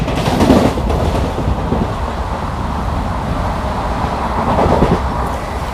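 An Intercity superfast express train runs at about 110 km/h past Cheruvathur station in Kerala, a steady loud rumble of wheels and carriage noise with brief swells of rattling near the start and end.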